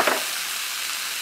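Broccoli stir-frying in a pan with very little oil, a steady hissing sizzle that holds evenly throughout, close and alone after a brief clatter at the start.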